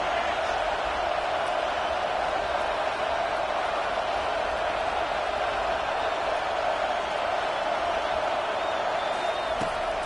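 Steady stadium crowd roar in a College Football 25 game, a constant wash of cheering filling the whole stretch.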